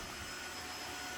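A Tineco iFloor3 wet-dry vacuum cleaner runs on a floor with a steady, close, loud whirring hum and no pauses or talk.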